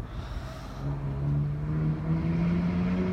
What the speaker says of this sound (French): On va juste laisser la voiture passer une dernière fois, histoire de bien entendre la voiture.